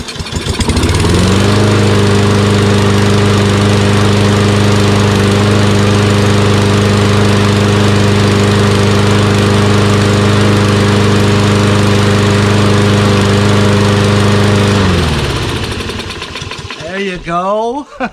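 Toro Recycler XT675 lawn mower with a Kohler engine, troubleshot for hard starting and stalling, runs steadily for about fifteen seconds with a loud, close engine drone, then cuts out and sputters to a stop.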